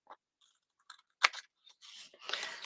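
Paper is trimmed with a broken pair of scissors in a few sparse snips, the loudest a sharp cut near the middle, followed by a longer rustling slide of blades and paper.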